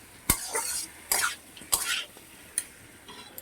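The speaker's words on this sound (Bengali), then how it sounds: "ভালো করে কষতে হবে যাতে তেলটা বেরিয়ে আসে মশলা থেকে" Spice masala frying in oil in a pan while being stirred, a few sharp scraping and clattering strokes with soft sizzling between them, close and fairly quiet.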